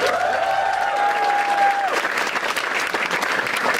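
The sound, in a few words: audience applause on a podcast show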